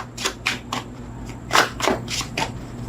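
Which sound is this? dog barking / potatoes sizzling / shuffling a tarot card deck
shuffling a tarot card deck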